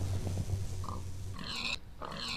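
A Minecraft pig oinks in short grunting bursts over a low droning game background, a couple of brief snorts close by and fairly faint.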